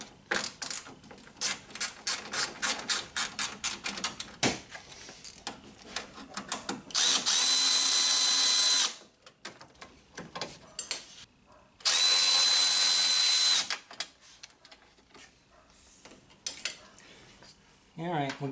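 Ratchet working on 5 mm bolts during a Honda Civic A/C condenser fan replacement: quick rapid clicking strokes, then two loud sustained bursts of power-tool whirring, with scattered handling clatter between them.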